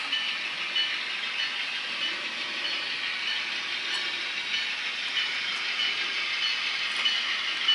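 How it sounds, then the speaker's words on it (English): A train rolls slowly through a rail yard, giving a steady, even rumble and hiss with faint squeaks, and no clear peaks throughout. "This train is on the move."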